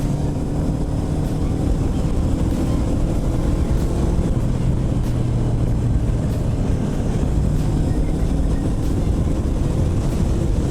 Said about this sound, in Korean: 이제부터는 진짜 고속주행이기 때문에 거의 5단, 6단만 사용하게 될 예정이에요